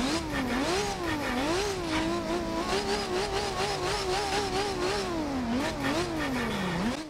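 Several car engines rev and whine together in Forza Horizon 2 while drifting a Nissan 240SX SE, pitches swooping up and down in quick succession, loud and continuous.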